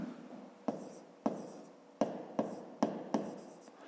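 Pen strokes on paper while noting a starting volume for a fifth-grade math exercise: a soft continuous scratch broken by several sharp taps of the pen, close and quiet, with no speech.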